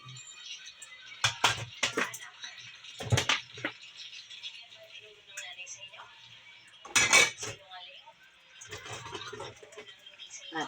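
Glasses and plates being washed by hand, with clinks and clatters of dishes and cutlery in several short bursts over a quiet background, plus faint water and some soft singing.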